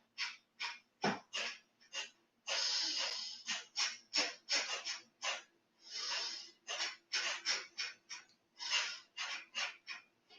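Kapalabhati yoga breathing, short forceful exhalations pumped out through the lower abdomen, a close, rhythmic series of sharp puffs with a couple of longer breaths between quick bursts.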